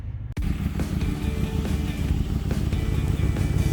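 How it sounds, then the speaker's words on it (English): A Lamborghini Imola idles with a deep, steady rumble through its exhaust and flex pipe, with a faint metallic note riding on top, loud and close after a brief click at the start. "You can hear the exhaust note."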